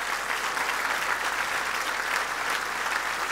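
An audience at a stand-up comedy show claps together in a steady, even burst of applause that fills the hall for a few seconds, fairly soft overall and with no other sounds standing out.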